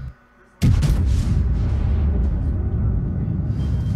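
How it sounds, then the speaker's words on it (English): A battleship's main guns fire in World of Warships: one sudden, heavy, loud blast that rolls into a long, low, rumbling tail. "Fire the first two guns off"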